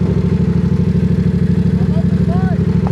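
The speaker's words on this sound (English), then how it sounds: "I like your car, bro. It sounds good." A car engine idles nearby on a midnight street, with a loud, low, steady throbbing pulse that keeps an even rhythm throughout.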